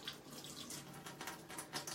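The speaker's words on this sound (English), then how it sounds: "I already said I'm going to wash it off anyway." Water running steadily from a tap into a sink to rinse something off, a continuous soft hiss and splash, close but fairly quiet.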